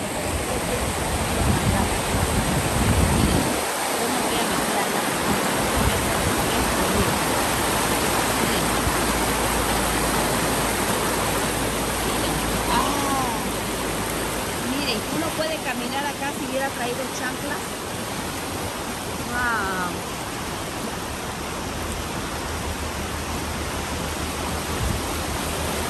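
The Guelatao river in Oaxaca rushes with clear water flowing downstream, a dense and steady roar that fills the whole scene, with a few faint birdlike chirps and brief knocks near the start.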